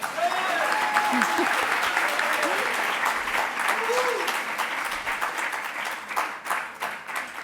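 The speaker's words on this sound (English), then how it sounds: "you have to absolutely give a round of applause for Gauri on the tambura" A concert audience claps for a tambura accompanist after an Indian classical performance. The applause is sustained and full, with a few voices and faint tonal sounds mixed in early, then it thins toward individual claps near the end.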